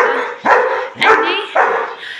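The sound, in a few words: dogs barking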